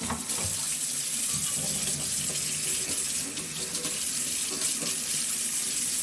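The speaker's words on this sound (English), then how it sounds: "You just need some hot water." Hot water runs steadily from a kitchen tap into a sink for washing up a frying pan, a constant close hissing splash with no pauses and no talk.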